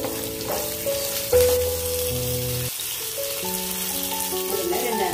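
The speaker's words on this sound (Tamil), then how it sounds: "அதில் 4 காஞ்ச மிளகாய், 10 சாம்பார் வெங்காயம் போட்டு ஒரு கிண்டிட்டு லைட்டாக வேக விடுங்க." Dried chillies and sambar onions fry in a pan with a steady, close sizzle that runs throughout beneath tonal background music.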